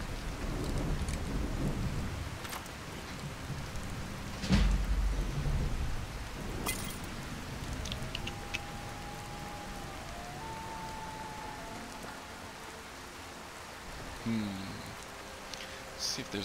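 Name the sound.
rain and thunder in a video game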